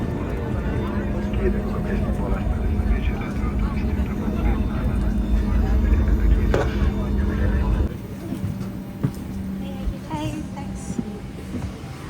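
Airliner touching down on a flight to Gran Canaria, heard from inside the cabin as a loud, rumbling roar for about eight seconds before it drops to a quieter hum, with some voices in the background.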